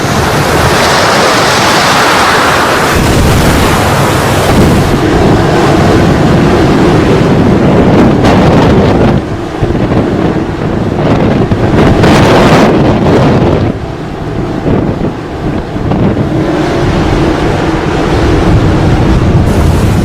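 Strong cyclone wind and high sea waves on the coast of Andhra Pradesh and Tamil Nadu make a loud, continuous roaring rush of gusts and surf that buffets the microphone, with no voices.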